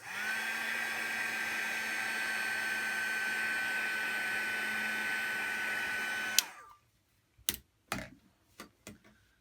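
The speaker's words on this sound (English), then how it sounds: "I am going to hit it with my heat tool in between to dry it so that it doesn't run into each other" A heat tool blows hot air over ink on card, a steady loud whir for several seconds that cuts off abruptly, followed by a few scattered light taps and clicks.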